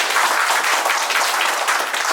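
Audience at a marketing and township plan program in Agartala, Tripura breaks into loud, dense applause that fills the whole stretch steadily, with no talk over it.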